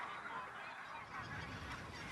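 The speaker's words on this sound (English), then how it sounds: "They use these contact calls to hold their little family groups together." Geese give contact calls within a flock, a dense chorus of overlapping honks and nasal calls heard at a distance, faint but continuous, with no voices present.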